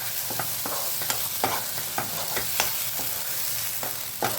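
A ground paste of ginger, garlic and onion fries in oil with a constant close sizzle. A spatula scrapes and taps the pan at irregular intervals, and no one speaks.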